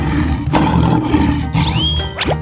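A lion roars loudly and close, with several rough rising and falling bursts over a steady low rumble.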